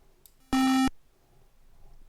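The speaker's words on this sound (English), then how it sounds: "and you click on a note, and it plays a note" A single synthesized note from the TIC-80 sound editor piano, a short steady buzzy square-like tone lasting about a third of a second, then near silence.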